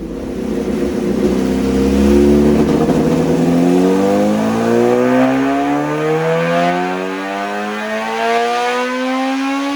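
A Suzuki GSX-R750 motorcycle engine revs up loud and close, its pitch climbing steadily and then holding high, with a rough, crackling edge from popping through the exhaust.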